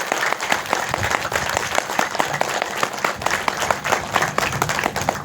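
An audience at a speech in Bhimavaram applauds, a dense and continuous clapping from many hands that holds at a steady level throughout, with a faint voice now and then.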